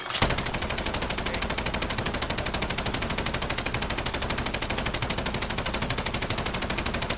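Sustained machine gun fire in a PlayStation 4 video game, a rapid, evenly spaced stream of loud shots running continuously for several seconds without pause.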